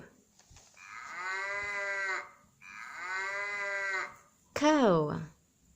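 Cow moos twice in long, drawn-out calls, followed by a shorter, higher moo that falls in pitch, close and clear with quiet gaps between calls.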